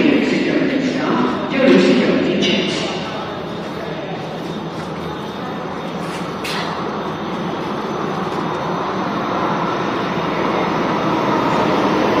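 Steady broadband rumble and hiss inside a moving Delhi metro train, with a brief louder swell near the start, continuing evenly throughout.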